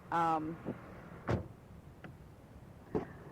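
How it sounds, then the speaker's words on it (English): A car door is shut in 1986, giving a couple of separate sharp bangs about two seconds apart at moderate distance, after a brief vocal sound at the start and amid quiet background. "I just shut the door. I guess you heard the bang bang."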